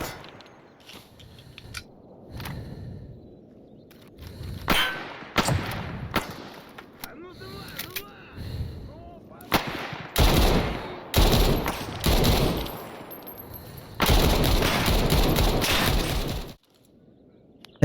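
In the Stalker Zona mod pack, an MK47 Mutant rifle fires in single shots and then in loud, close automatic bursts, ending with a long sustained stream of gunfire before a sudden stop.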